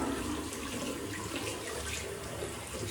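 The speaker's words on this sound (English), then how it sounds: "Get some cold water going here." Cold water runs steadily from a tap into a sink while a shaving brush is rinsed, a continuous close splashing rush with no break and no talk.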